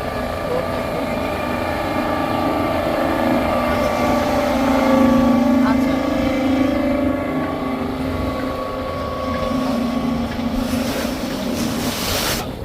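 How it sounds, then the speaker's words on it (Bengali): A sunken-deck passenger launch on the river near Narayanganj, coming from Chandpur, with a steady loud engine drone, water rushing against the hull and wind buffeting the microphone throughout. "চাঁদপুর থেকে একটি লঞ্চ আসতেছে সানকেন ডেক লঞ্চ"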